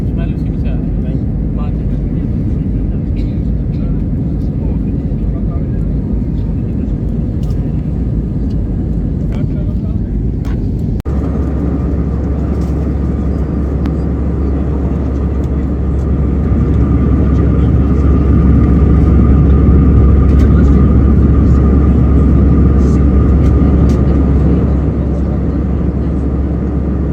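A steady, loud low rumble of airliner cabin noise during the landing approach into Agadir, Morocco, continuous throughout with a shift in engine tone partway through, while passengers talk over it.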